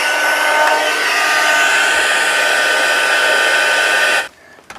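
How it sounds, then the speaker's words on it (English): A heat gun blasting hot air to melt Distress embossing glaze, a steady loud broadband whoosh that runs continuously for about four seconds before cutting off abruptly, leaving near silence. "I'm going to put on my heat gun"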